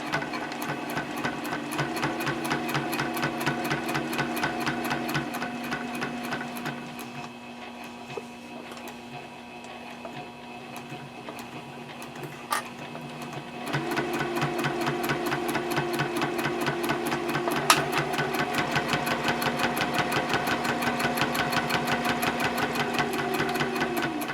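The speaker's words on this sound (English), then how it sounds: "I'm only going to sew about 1/8 of an inch along the raw edges there" A sewing machine bastes a sleeve onto the raw edges of a quilted A5 journal cover, running close and steady with rapid even stitching, pausing briefly in the middle, then starting again and running on.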